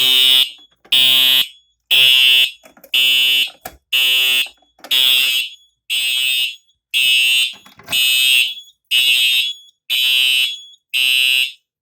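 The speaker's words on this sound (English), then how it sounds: "so we have the one fire alarm" A loud fire alarm blares in regular pulses during a system test after a pull station is pulled, about a dozen evenly spaced blasts with short gaps between them.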